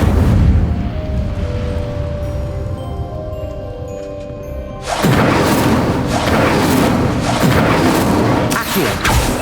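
Incendio fire spell blasts in Hogwarts Legacy, a quiet stretch giving way halfway through to a loud burst of booming, crashing impacts that keep rumbling and thudding in a dense close sequence.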